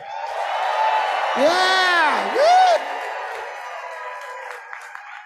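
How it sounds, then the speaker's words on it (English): A convention crowd at a Federation general session gives a big cheer, voices whooping and shouting together loudly for a few seconds, with rising yells and clapping before the noise settles to a murmur. "how about one big Federation cheer?"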